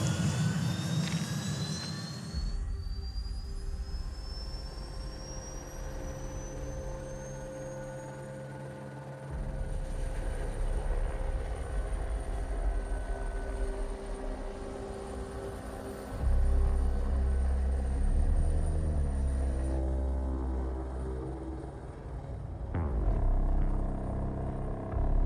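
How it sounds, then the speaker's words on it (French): Helicopter turbine spooling up beside a tower in Paris, a rising whine climbing steadily over a loud, continuous engine roar that swells and grows heavier toward the end, with no voices. "Et démarrage turbine hélicoptère."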